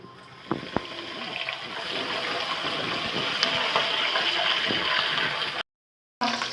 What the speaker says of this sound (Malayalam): ഒരു വാട്ട വെള്ളം ഒഴിക്കുന്നുണ്ട്